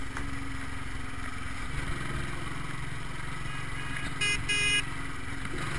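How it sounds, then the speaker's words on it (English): Short horn beeps sound from a motorcycle riding through road traffic in India, a brief burst of honks near the end over a continuous rumble of engines and traffic noise. "You hear me beeping, just let him know I'm coming."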